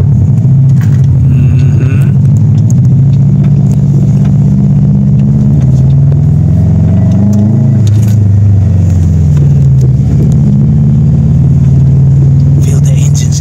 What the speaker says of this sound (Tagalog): Feel the engine's anger.